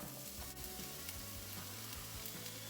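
Chopped shallot and crushed garlic frying in olive oil in a pan, a dense continuous sizzle heard up close and steady throughout, with no talking.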